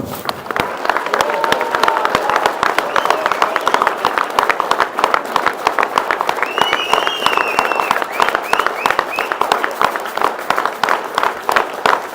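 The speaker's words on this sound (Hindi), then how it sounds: "अब इमरान खान के लिए तालियां बजाएं" A political rally crowd claps and cheers for Imran Khan, with loud, rapid, sustained applause and scattered shouts and whistles rising over it throughout.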